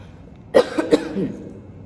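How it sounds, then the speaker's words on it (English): A person nearby clears their throat with a couple of quick rough bursts, alone with no talking. "I need to clear my throat"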